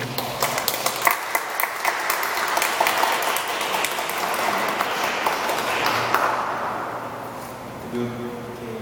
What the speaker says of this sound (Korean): 감사의 박수 감사합니다.